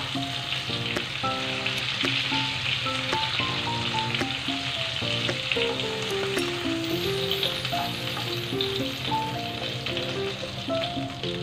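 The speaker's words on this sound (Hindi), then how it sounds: "तो देखिए, प्रॉन फ्राई हो चुका है।" Prawns frying in hot oil give a steady, dense sizzle with crackling throughout, under light background music.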